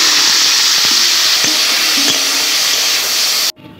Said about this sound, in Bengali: যে তেলে আমি গাজর ভেজেছিলাম ওই তেলে চলো এবার বিনস গুলো ভেজে নেব